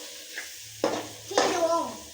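Garam masala and vegetables sautéing in a pan for brinjal curry: a quiet sizzle with two sharp stirring scrapes of a spoon against the pan, close and brief, with no voice.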